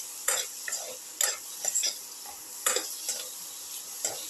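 Snake gourd and tomato with salt and turmeric are stirred in a pan, a run of light, spaced scraping and clinking strokes of a spoon over a faint sizzle, close and fairly quiet.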